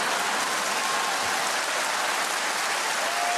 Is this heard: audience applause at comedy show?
yes